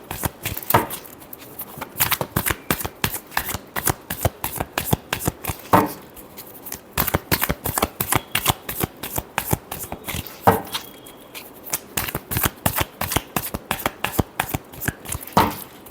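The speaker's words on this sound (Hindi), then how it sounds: "last shuffle" Tarot cards being shuffled by hand, a steady run of quick crisp riffling flicks with brief pauses between bursts, close and alone with no talking.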